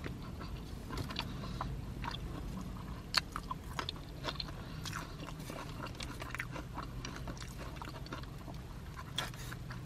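Someone bites and chews a soft, messy Taco Bell taco with a non-crunchy shell inside a parked car, steady close wet chewing with small crunches and no talking.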